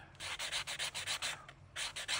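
Rhythmic back-and-forth strokes of a flexible sanding tool, about a dozen quick scratchy rubs in a steady pattern, close and distinct.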